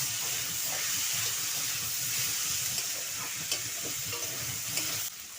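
Vegetable peels of pumpkin, potato, flat bean and bottle gourd, with lentil dumplings and a pinch of sugar, are stirred in a hot pan: a steady close sizzle with soft, irregular scraping strokes and no voices.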